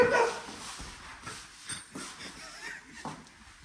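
A dog yips, whimpers and gives a few short barks close by, in brief irregular bursts.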